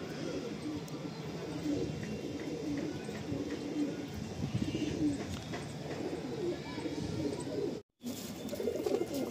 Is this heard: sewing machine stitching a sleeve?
no